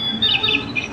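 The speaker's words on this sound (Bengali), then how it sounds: "লাভলু ভাই, পাখিগুলো ডাকতেছে, শুনতেছেন?" A battery-operated toy bird gives a brief burst of high, electronic-sounding chirps and warbles, close and fairly loud, repeating in quick short notes.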